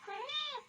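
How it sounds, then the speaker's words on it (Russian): A single clear meow from a red tomcat in a village yard, rising and falling over under a second, close and fairly loud, with no talking over it. "Кот или кошка? Кот."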